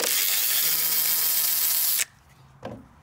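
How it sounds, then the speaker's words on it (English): A ratchet spins out grille bolts on a 2014–2018 Chevy/GMC pickup, giving a loud, steady whirring buzz for about two seconds that stops abruptly, followed by a short click. "you like my ratchet."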